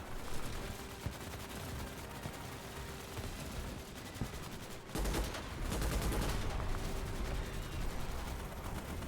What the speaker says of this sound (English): It's kind of neat hearing all the explosions all around.